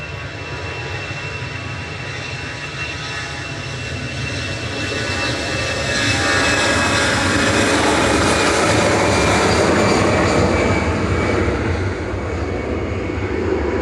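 An EasyJet jet airliner takes off from Manchester Airport for Basel, a broad roaring engine wash that builds steadily louder and holds strong for many seconds, heard from a distance.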